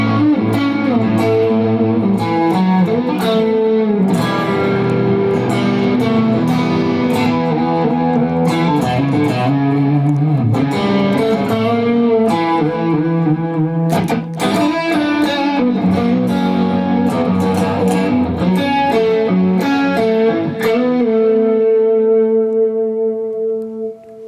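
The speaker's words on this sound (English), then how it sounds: "So adding the BB on top of the Carl Martin into the Lone Star sounds like this." Electric guitar through a BB preamp pedal stacked on a Carl Martin compressor into a Lone Star amp, giving a thick, driven, sustained lead line over chords that plays continuously and ends on a long fading note, with no voices.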